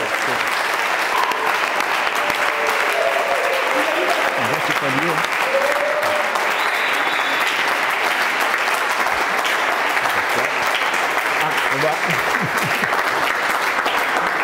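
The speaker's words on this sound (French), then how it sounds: "Sous vos acclamations, accueillons ici le pasteur Jean-Claude Boulacho." Loud, sustained applause from a church audience welcoming a pastor at a gospel event, continuous clapping throughout with voices mixed in beneath.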